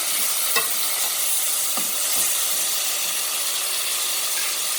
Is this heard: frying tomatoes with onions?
yes